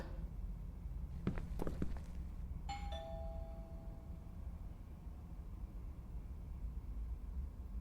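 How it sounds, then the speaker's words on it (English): Doorbell rings once in the indie horror game Within, a bright chime that rings out and fades, preceded by a few soft footsteps against a steady low ambient hum. "I should just ring the doorbell, see if he answers."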